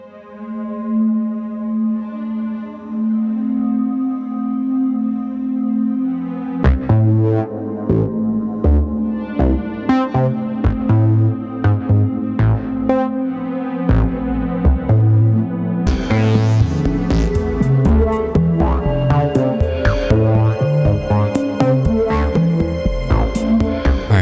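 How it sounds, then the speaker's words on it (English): Choppy fragments of an electronic techno track from the game Dhampir, a pulsing beat and synth melody cut together in abrupt snippets, loud and continuous with no talking. "what you just heard was little bits of that song snipped apart"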